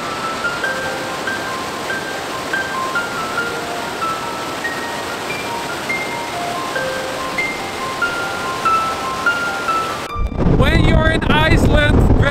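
Strong wind buffets the microphone at Gullfoss waterfall in Iceland, a steady loud roar and rumble throughout with faint tonal whistles, swelling into a heavier gust blast near the end.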